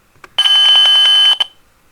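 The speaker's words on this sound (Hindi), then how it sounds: "तो आप देखेंगे ये हमारा बजर जो है बीप कर रहा है।" An Arduino buzzer sounding at 3000 Hz when a push button is pressed: one loud, steady, high-pitched electronic tone lasting about a second, preceded and followed by faint clicks, with no voices.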